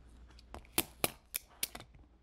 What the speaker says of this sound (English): we're going to be using handy dandy duct tape. And we're just going to measure and cut.